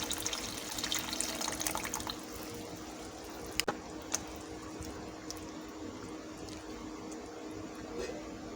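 Water poured into a cooking pot of arvi gosht, a Punjabi taro and meat curry, making a steady, moderately faint running and splashing wash with a couple of brief clinks partway through, with no talking.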